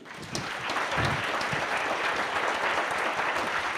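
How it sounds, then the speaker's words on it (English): A lecture audience gives a warm round of applause at the close of a forum talk, a full, steady burst of many hands clapping from the start, with a brief voice near the beginning. "let us give Peter a big warm round of applause"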